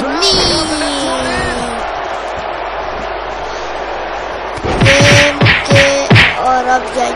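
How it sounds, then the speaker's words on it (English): A loud, steady crowd roar fills a WWE 2K19 wrestling arena, with whistling and chanting swelling under the noise, then sharp rhythmic impacts and bright tones cutting in near the end. "And listen to this crowd."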